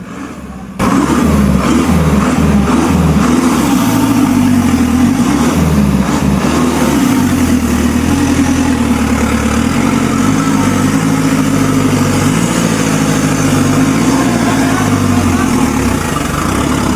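A Tata truck's engine revs hard and steadily as it climbs out of rain-softened mud, a loud, sustained low drone with shifting pitch that starts abruptly after a brief quiet moment and holds throughout.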